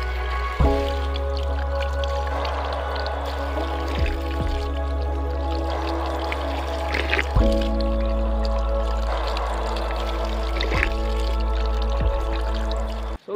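Cold underground spring water flowing steadily in a forest near a village, a continuous close splashing trickle with occasional drips and small pours, no talk.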